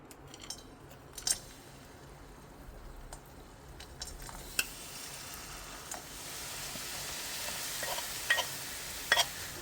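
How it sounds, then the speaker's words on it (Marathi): Jaggery melting in ghee in a pan over low heat is stirred with a utensil, giving a soft, quiet sizzle with occasional scraping clicks against the pan. "गूळ पागळेपर्यंत त्याला हलवत राहूया"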